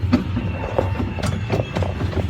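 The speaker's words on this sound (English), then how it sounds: "Riding on those train tracks." A small zoo train rolls along its tracks, giving a steady rumble with a few sharp clicks and clacks from the wheels close by.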